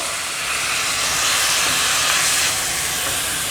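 Ground pork sautés in a pan with a steady, fairly loud broadband sizzle that holds evenly for the whole stretch, swelling slightly in the middle, with no talking.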